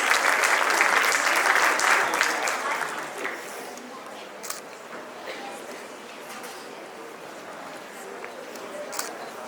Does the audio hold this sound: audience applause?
yes